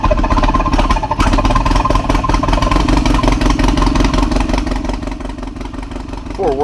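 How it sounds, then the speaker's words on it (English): A 2-cylinder Go Devil Jeep engine converted into an air compressor runs inside a 1964 Willys CJ6, giving a loud, steady, clattering mechanical chug that fills the clip without any talk. "that is a Go Devil air compressor running off of 2 cylinders, and it's stationed inside this 1964 Willys CJ6"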